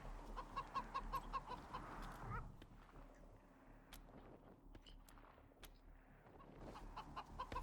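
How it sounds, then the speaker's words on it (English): A chicken clucks in the video game Wasteland 3, a quick run of rhythmic clucks followed by quieter ambient game sound and faint sharp clicks. "There's a chicken here."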